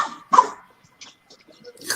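A couple of sharp, high yappy barks from a small Chihuahua, close by, followed by quieter scattered noises and another yelp at the end.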